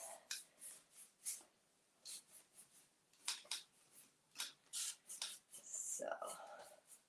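A spatula spreads and scrapes paint in short, soft, separate strokes, faint and close, with a longer rasping drag near the end.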